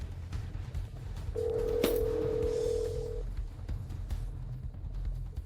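A steady telephone tone sounds for about two seconds as a call is placed, moderately loud over a constant low background rumble, with no talking.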